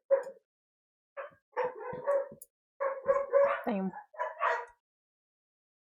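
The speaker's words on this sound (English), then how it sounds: "they make the dogs angry." Dogs barking and yipping in short bursts, close and fairly loud, with a whimper-like yelp near the end; a voice speaks briefly over the start.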